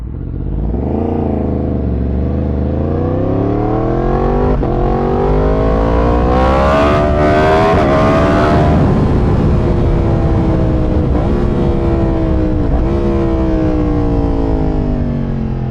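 A 2017 Yamaha MT-10 motorcycle with a loud aftermarket exhaust revs up and down several times, the deep rumbling engine note rising and falling, close and continuous.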